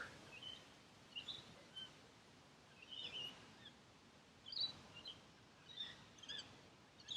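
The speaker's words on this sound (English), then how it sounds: "you notice the birds. Maybe you can hear them." Faint, scattered bird chirps and tweets outdoors, short high calls coming in irregular bursts over quiet background hiss.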